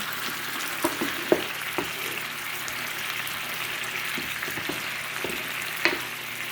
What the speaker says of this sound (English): it's thickening up, the sauce is reducing